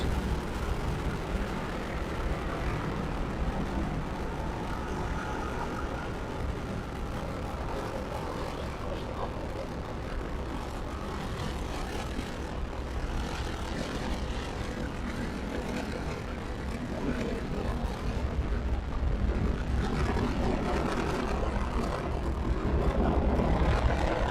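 Falcon 9 rocket engines roaring at liftoff on the AMOS-17 launch, a loud continuous broadband rumble that holds steady and swells slightly toward the end, with faint speech underneath.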